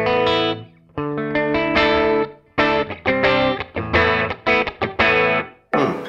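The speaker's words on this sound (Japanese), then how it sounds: "2だとね、まあ僕が言うところのまだクリーントーンです。" Electric guitar played through a Suhr Hombre amp with gain at 2, a clean tone on the edge of breaking up: strummed chords and ringing notes in bursts with short gaps, loud and alone.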